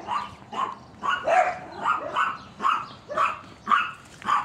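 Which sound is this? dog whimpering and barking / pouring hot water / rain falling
dog whimpering and barking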